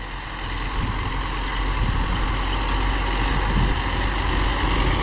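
A tractor engine idles in a steady, low rumbling drone, close and fairly loud, during soybean sowing, without any voices.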